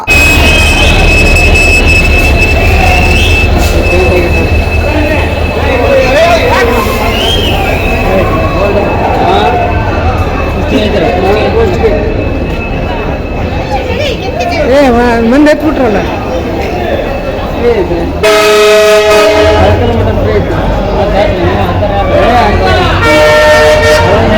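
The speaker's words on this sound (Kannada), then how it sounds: "ಕೇಂದ್ರ ಸಚಿವ ವಿ ಸೋಮಣ್ಣ ಫಸ್ಟ್ ಟೈಮ್ ರೈಲು ಸಂಚಾರಕ್ಕೆ ಚಾಲನೆ ಕೊಟ್ಟು" A train runs on the newly opened railway line at Kushtagi in Koppal district during its inauguration, with a steady rumble under loud crowd chatter and a strong horn blast near the end.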